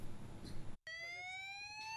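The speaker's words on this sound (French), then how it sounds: "19h30, l'alarme se déclenche." An electronic alarm sounds on a naval patrol base at night. A steady, loud, tonal blare begins after a brief silence that follows noisy background ambience, and then it holds constant on its own.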